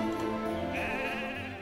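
A sheep bleats in the Dragons: Rise of Berk video game, one loud, close, wavering bleat lasting over a second against a steady game background, with no talking.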